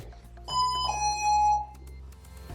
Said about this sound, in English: when you get out of the chair, you should expect a full alarm